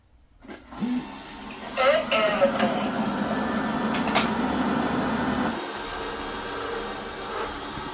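A robot vacuum cleaner starts up on a hallway floor scattered with wholemeal flour and fine angel-hair strands, a faint click followed by a steady close motor whir and hum that carries on with some shifting tone.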